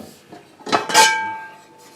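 Cast iron pans, one of them a Wagner Ware piece, are lifted out and knocked together, giving a couple of clanks and then a ringing metallic tone that slowly fades.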